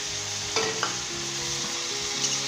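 Chopped green chillies and tomatoes fry in spiced oil for a boondi salan, producing a steady close sizzle with a few brief stirring scrapes over it.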